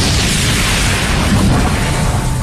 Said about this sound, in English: Combine all your attacks into a Magmamite barrage!